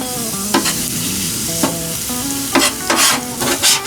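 Ranch dressing stirred into chicken philly meat on a Blackstone griddle, a spatula scraping and clattering through a steady sizzle, with sharper metal scrapes toward the end.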